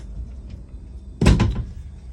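A cabinet door shutting inside a 2021 Coachmen Nova 20CL RV, one sharp close thump with a quick rattle right after, loud and near against a quiet interior.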